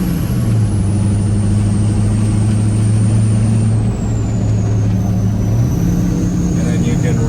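A 4WD Kodiak truck camper's diesel engine with the turbo brake engaged at around 20–30 mph, giving a loud, steady droning roar whose pitch holds and then shifts, heard close from inside the cab.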